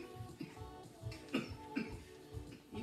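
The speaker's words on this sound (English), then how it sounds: "You can go to the side if you're going to cough." Several short coughs spaced about half a second apart during an interval training workout, faint and somewhat distant amid low background noise.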